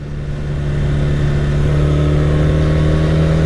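A 1982 Honda CB 400 motorcycle engine runs at a steady idle close by, a loud, even mid-pitched hum with a smooth, constant rhythm.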